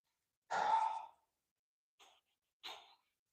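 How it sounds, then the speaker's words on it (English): A person exhales heavily close to a microphone: one long breathy sigh followed by two shorter breaths, separated by silence. "Sorry for the deep breathing on microphone."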